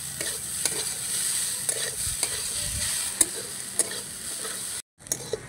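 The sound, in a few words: stirring chopped onion into grated potato in a pan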